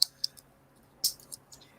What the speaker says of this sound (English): So keep typing.